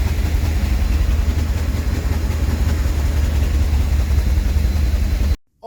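An old Rolls-Royce engine idles with a deep, steady low rumble and constant throb close by, cutting off abruptly near the end before a brief return of sound.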